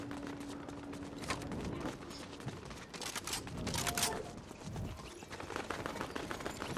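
Faint, distant bursts of rapid gunfire in Fortnite crackle and pop in irregular volleys over a dense, noisy background.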